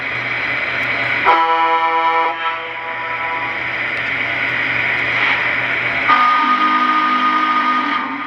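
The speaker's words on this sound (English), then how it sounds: "Oh, we get into horns now." A Lionel Southern Pacific 4426 GS3 model train horn sounds twice over a constant electric hum: first a short blast, then a longer, lower horn tone near the end.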